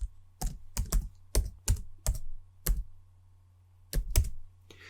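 Typing on a computer keyboard, a few quick bursts of distinct clicky keystrokes with short pauses between them, close and clear over a faint hum.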